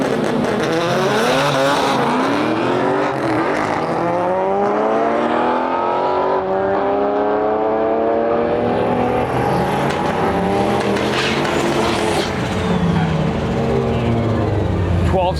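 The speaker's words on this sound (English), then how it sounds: "We've got a beautiful Chevelle pulling up in the right lane. LS VTEC Turbo Civic in the left lane." A Chevelle and an LS VTEC turbo Honda Civic launch side by side down a drag strip, engines screaming loud and near with rising and falling revs through repeated gear changes, fading slightly as they pull away.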